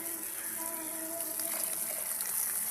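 Water pours steadily into a cooking pan holding broken split green gram and clove powder for a banana-stem kootu, a continuous close gushing splash with no voices.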